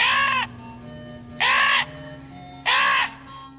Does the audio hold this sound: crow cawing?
yes